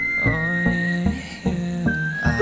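A whistled melody from a K-pop music video, a sustained bright tone that glides between held notes over a steady backing track of beats and instruments, with no talking.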